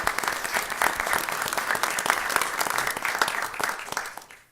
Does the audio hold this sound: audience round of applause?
yes